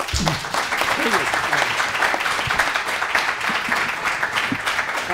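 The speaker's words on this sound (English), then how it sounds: "we just deserve a round of applause" An audience at a sustainability science conference session claps in steady, dense applause from start to finish, with some faint murmuring mixed in.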